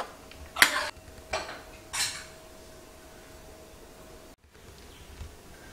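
A metal ladle pushes tapioca puttu out of its steaming tube, giving a few sharp metallic scrapes and clinks close by, separated by quiet pauses.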